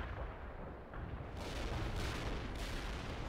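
Artillery fire in the World in Conflict video game: heavy, continuous rumbling blasts and booms roll one into another, loud and dense with no voices.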